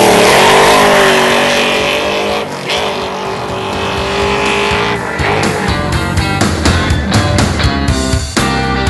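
A loud drag race car on DOT drag tires roaring as it launches and accelerates hard on a quarter-mile track, the pitch climbing through gear changes, close by.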